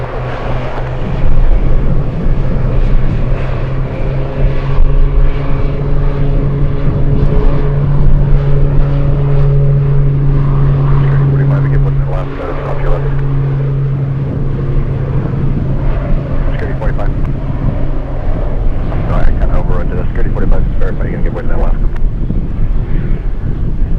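A jet aircraft departing Anchorage airport rumbles steadily in the distance with a sustained low drone, partly buffeted by wind on the microphone, alongside radio chatter.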